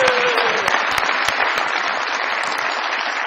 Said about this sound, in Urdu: پیار بہت ساری تالیاں جی.